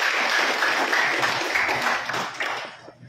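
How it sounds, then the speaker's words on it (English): Applause from an audience at a solidarity pact signing event for the 2025 local elections, dense and steady for a few seconds before thinning out and tapering off near the end. "Let's give Mrs. Eva O. de la Cruz a round of applause"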